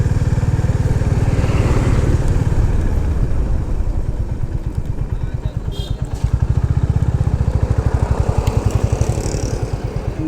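A motorcycle engine rumbles loudly and close while riding, a steady low pulsing throb that picks up a firmer beat partway through, with a person talking over it.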